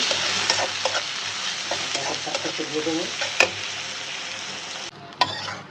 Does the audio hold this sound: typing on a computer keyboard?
no